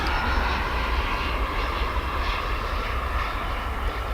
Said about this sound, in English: I can hear the sound of incoming aircraft kind of bouncing off of